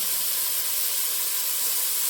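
Potato pieces dropped into hot oil in a pan with tomato for a potato and brinjal curry, giving a loud, steady sizzling hiss with no talk.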